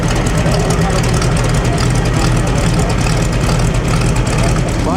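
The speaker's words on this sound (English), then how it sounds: "That's the twin engine. Sounds like a V8. It's two 4-cylinder engines in a row." Twin-engine car built from two 4-cylinder engines in a row, running at the Mille Miglia road race; a loud, steady engine drone with a deep low rumble throughout, amid crowd noise and some talk.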